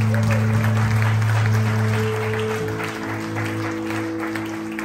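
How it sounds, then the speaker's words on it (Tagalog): A church congregation at a Church of Christ service in San Pedro applauds steadily throughout, a dense wash of clapping layered over sustained tonal instrument notes, close and fairly loud, with no speech. "Ituloy po natin ang palakpak para sa Diyos."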